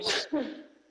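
Sneeze from someone in a public works board meeting room, a sharp broadband burst followed by a second voiced exhale, loud and close, alone without talk.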